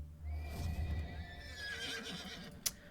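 A video-game horse mount gives a single loud, clear whinny with a falling pitch, alongside a few soft hoof clops and a sharp click near the end, with no talking.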